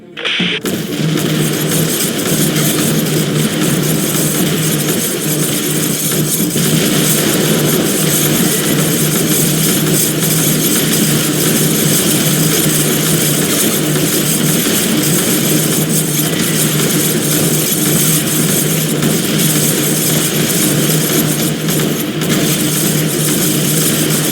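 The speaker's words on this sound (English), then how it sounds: "Bombers entering danger zone. En route to release payload on alien structures." Bomber aircraft in the tower-defense game X-Morph: Defense fly in a dense, continuous engine roar, loud and unbroken from start to finish, with no speech over it.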